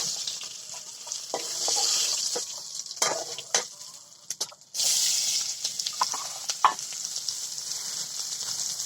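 Onion frying in oil in a pan over a clay stove, a bright crackling sizzle with scattered stirring clicks and scrapes, close and fairly loud, swelling again after a short dip midway, no talking.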